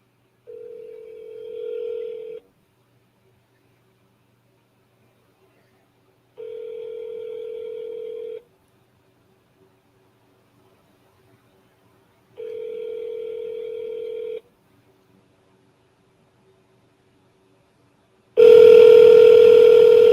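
Outgoing phone call with three evenly spaced ring-back tones, each about two seconds with silent gaps, followed by a louder continuous tone as the number is dialed again.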